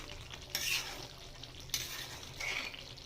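Mutton being sautéed in a pot for a Bengali kosha curry, a soft sizzle beneath a few sharp scrapes and clinks of a spoon against the pot, quiet and close.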